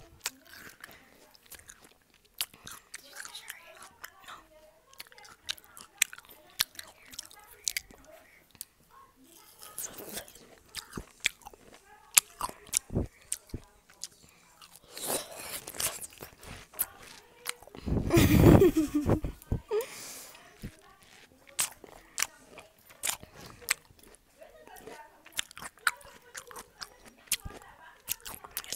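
Someone eating and chewing watermelon up close, with scattered soft wet bites and crunchy chews over quiet room noise and a brief louder burst of rustle partway through.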